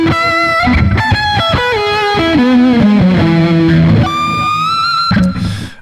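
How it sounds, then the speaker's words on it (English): Heavy metal guitar played through an amp simulation in Ableton Live with smooth, warm distortion plus echo and delay: a sustained melodic lead line of bending, gliding notes with repeating delay tails, loud and continuous, no talking. "Milky with echo, same idea, just some delay on it."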